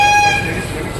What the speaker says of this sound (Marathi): आजचा आपला हा खूप दिवसानंतर ट्रेनचा प्रवास असणार आहे